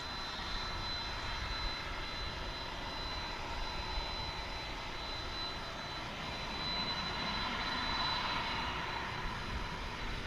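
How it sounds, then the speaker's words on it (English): A jet airliner takes off from a runway at DFW International Airport, a steady roar of jet engines, moderately loud and somewhat distant, that holds for the whole stretch. "Will it need much runway to take off?"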